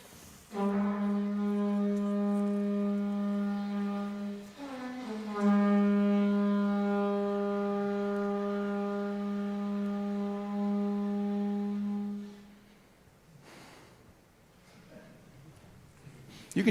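A shofar sounds a tekiah gedolah at an Erev Rosh Hashana service, one long sustained horn blast with a brief dip and restart partway, held for about eleven seconds before stopping, loud and close.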